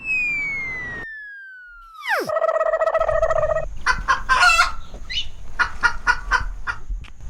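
After a falling whistle-like sweep, a chicken calls out close by in a village, with a few loud, harmonic squawks and clucks in quick succession over low background noise.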